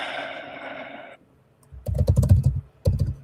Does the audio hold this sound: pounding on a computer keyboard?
yes